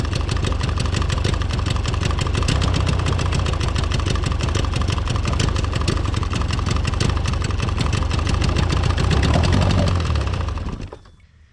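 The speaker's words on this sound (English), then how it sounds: "So it's idling really high with the choke in, with no choke." A small outboard boat motor idles high at a fast, steady pace with rapid even ticking, loud and close, then cuts off abruptly at the end.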